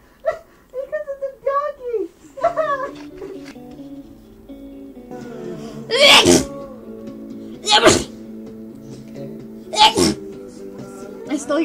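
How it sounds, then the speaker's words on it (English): Three sharp, loud sneezes burst out at roughly even intervals after a stretch of high, playful vocal sounds and indoor chatter. "I stole your sneezes."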